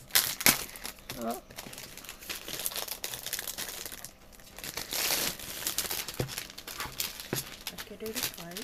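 A plastic-wrapped magazine gift package being torn open, with crisp crinkling and rustling bursts throughout while people talk over the handling.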